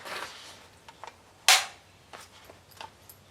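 A CETME C rifle part is pushed up by hand and locks into place with a single sharp metallic click, preceded and followed by faint small handling taps in a quiet setting.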